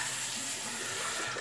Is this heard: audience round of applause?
no